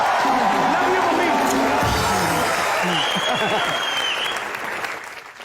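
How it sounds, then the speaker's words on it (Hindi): Audience applause and cheering on a TV comedy show, loud sustained clapping with voices talking and calling out over it, the clapping slowly fading toward the end. "मेरी माँ के लिए एक बार जोरदार तालियां।"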